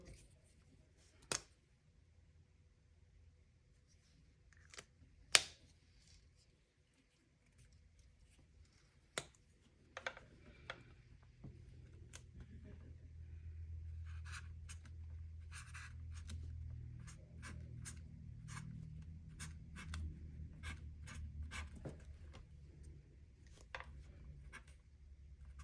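Pen strokes on paper while hand lettering in a scripture journal, faint scratchy writing in short bursts with occasional louder taps and clicks, plus a low background rumble building midway, close and quiet.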